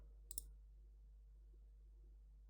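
A single quick mouse click near the start, sharp and close, followed by a faint steady electrical hum and near silence.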